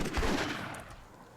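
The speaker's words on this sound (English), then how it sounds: "We're all getting grenaded." A grenade blast and a burst of gunfire in the World War II mod of Myth II: Soulblighter give a loud explosive crack followed by a rumbling decay that fades within a second.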